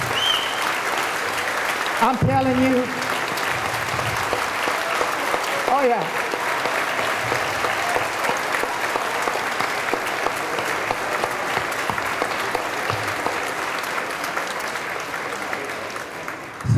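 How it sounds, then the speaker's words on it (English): An audience breaks into sustained applause at a eulogy for a man named Dave, a steady loud clapping that runs the whole stretch while a voice briefly speaks over it. "we need to give them a big round of applause"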